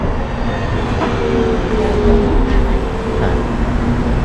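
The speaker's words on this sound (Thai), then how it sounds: "ตอนนี้ รถมาแล้วนะครับ" A city bus pulls up to a stop in Beitou, Taipei, Taiwan, its engine and road noise forming a loud, close, steady rumble with no talking.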